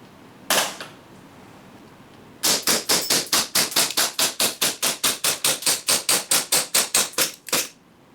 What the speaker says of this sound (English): the magazine is empty and fire about 25 rounds